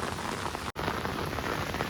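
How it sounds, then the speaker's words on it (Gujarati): Heavy rain pours steadily beside the flooded Malan river, a dense, loud, unbroken downpour with a brief dropout partway through and no voices. "અત્યારે વરસાદ ચાલુ ને ચાલુ જ છે"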